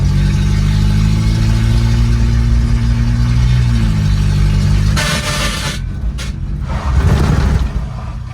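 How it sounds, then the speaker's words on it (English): An Opel car driven hard in reverse across a bridge, its engine droning loud and steady with a pitch step partway through, then dropping into rough rumble and wind buffeting near the end. "So I'm gonna get out here on the bridge and just cram it in reverse. Build up speed."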